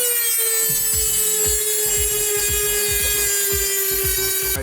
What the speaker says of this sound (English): from just hitting it with a Dremel, it looks like it's just surface rust